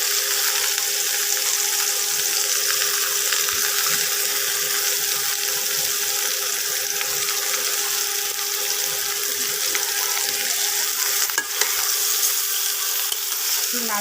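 Mango pickle with salt and turmeric sizzles steadily in a hot pan, a constant bright frying hiss broken by occasional utensil scrapes from stirring.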